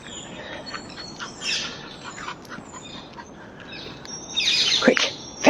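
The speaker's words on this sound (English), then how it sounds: "There's the birdies all speaking to each other." Garden birds chirping and calling back and forth, scattered bright tweets at moderate distance over a soft outdoor background, growing busier near the end.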